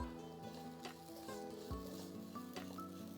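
Spice masala with ginger garlic paste and garam masala faintly sizzles in a pan, a quiet steady frying hiss with occasional soft stirring scrapes and no speech.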